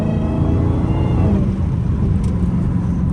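Loud, continuous low rumble of a 797hp Hellcat Redeye engine running with straight pipes, open headers and no catalytic converter, a dense steady exhaust drone close by with no speech.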